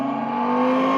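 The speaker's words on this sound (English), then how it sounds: "And when you hear this one, you can actually hear the bike idle." An Evoque Streetster R electric motorcycle plays a simulated engine idle, a steady deep humming tone held close and constant for a moment.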